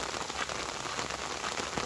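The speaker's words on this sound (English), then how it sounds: "this walking in the rain today" Steady rain falling on a walker crossing America on foot, a dense continuous hiss of drops spattering nearby surfaces with no voices.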